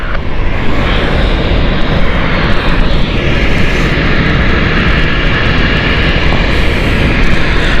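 An Embraer jet on a two-mile final into London City Airport on runway 27, its engines roaring loudly and steadily for the whole stretch with broad, continuous noise and no talk over it.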